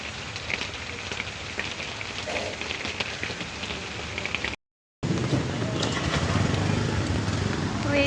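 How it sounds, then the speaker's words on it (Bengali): Rain pours down steadily on surfaces while someone boards a CNG auto-rickshaw, a dense close hiss with a brief gap of silence midway, then heavier rumbling rain and passing traffic. "দেখেন সিএনজিতে উঠতে উঠতে আবার বৃষ্টি শুরু হয়ে গিয়েছে অলরেডি"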